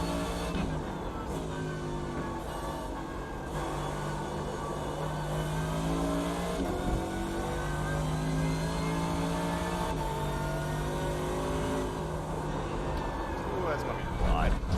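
Mercedes GT3 race car in the iRacing sim, its engine droning and rising and falling through gear changes at steady moderate loudness, with a person talking over it at times.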